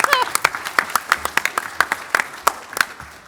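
A convention panel audience at San Diego Comic-Con claps in a loose, moderately sized burst, individual sharp hand claps standing out clearly over a murmur of voices.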